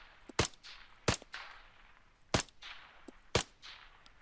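An M1A SOCOM 16 rifle fires four separate single shots in ARMA 3. Each report is sharp and loud, and a short tail fades after it, with gaps of roughly a second between shots.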